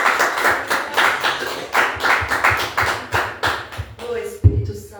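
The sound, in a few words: congregation applauding in church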